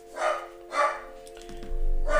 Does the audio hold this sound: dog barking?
yes